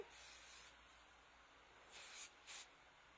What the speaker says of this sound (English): I'm going to finish her off with just our lustrous spray.